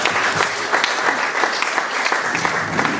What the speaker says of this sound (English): That's a really generous round of applause